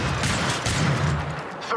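Shotgun blasts in the Apex Legends shooter game, heavy overlapping booms packed into under two seconds of loud, chaotic combat, with no voices over them.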